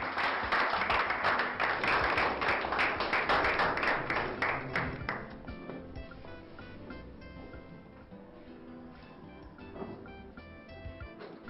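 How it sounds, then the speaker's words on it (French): An audience applauds at a prize-giving ceremony with a loud, dense crowd clapping for about five seconds, then it fades away beneath quieter music. "Continuez d'applaudir, s'il vous plaît"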